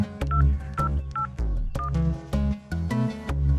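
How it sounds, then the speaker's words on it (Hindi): Number keys on a telephone are pressed, a series of distinct touch-tone beeps at an irregular pace, loud and close, with no one speaking. "अपने बाप को फोन लगा"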